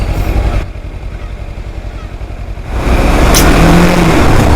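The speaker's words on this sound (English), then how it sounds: "The traffic is horrendous." Heavy city road traffic rumbles close by, with cars passing and engines droning, a quieter spell in the middle giving way to a louder steady roar of vehicles toward the end.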